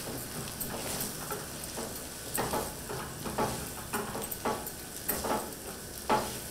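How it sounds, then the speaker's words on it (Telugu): Precooked chicken frying in oil in a pan with mint and coriander added, a steady close sizzle broken by repeated scraping stirs, with no talk. "ముందుగా చికెన్ ఉడికించుకున్నాం కాబట్టి ఇప్పుడు ఆయిల్లో వేసాక కొద్దిసేపట్లో ఉడికిపోతుంది"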